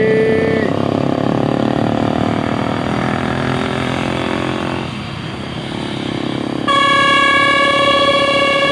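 A loud multi-tone horn on an Indonesian intercity bus bound for Jakarta and Bekasi blares near the end after a brief honk at the start, over a rumbling engine and road noise.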